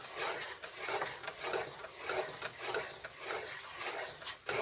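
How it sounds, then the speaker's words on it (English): A spoon works flour halva (un helvasi) around a hot pan, making soft, rhythmic scraping and stirring strokes that repeat about twice a second at a low, close level with no talking. "So stir it until you can get all the little flour buds broken up."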